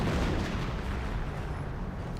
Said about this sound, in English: Was that a sniper going down to the artillery barrage?